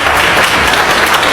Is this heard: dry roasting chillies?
no